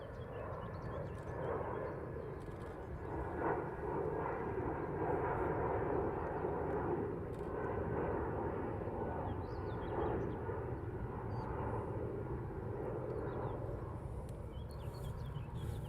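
A jet airliner climbs out after takeoff from Heathrow and banks left over London, its engines a distant, steady broadband roar that holds for the whole stretch with no voices.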